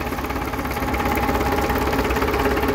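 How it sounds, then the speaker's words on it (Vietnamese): A Yanmar 4CH-ST 160-horsepower marine diesel engine runs steadily at idle, a close, loud, even mechanical drone with a rapid knocking pulse and vibration throughout, no voices. "Máy nổ rất là nhuyễn ha, máy bãi mới về Việt Nam chưa sơn quá đây cả"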